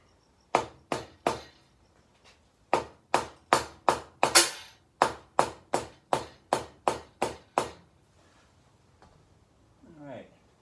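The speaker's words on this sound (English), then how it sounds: "If you're beating on things with a hammer for more than a few hits" Sharp hammer blows on metal parts of a Honda 400EX ATV engine ring out in quick, steady bursts, about sixteen hits with one short pause, then silence and a faint voice near the end.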